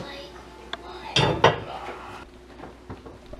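A bowl and utensils being handled in a kitchen to taste split ham and pea soup, with a few close clinks and clatters of dishes and cutlery over quiet background.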